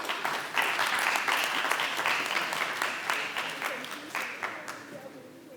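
Audience applause welcoming a speaker to the stage at a university physics department golden jubilee, steady dense clapping from a crowd that gradually fades over a few seconds.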